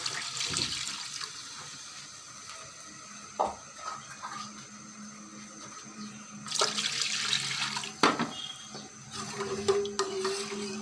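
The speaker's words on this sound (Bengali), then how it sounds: "এখন এখানে দিয়ে দেব পরিমাণ মতো পানি" Water splashes and trickles into a pot of fried chicken pieces in short bursts, with kitchen clatter between pours, quiet and close.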